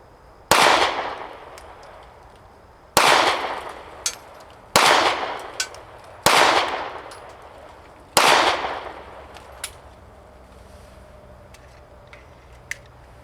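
Five sharp pistol shots from a Glock 43x fired at a target seven yards away, each a loud crack with a ringing decay, spaced a second or two apart, followed by faint small clicks and no speech.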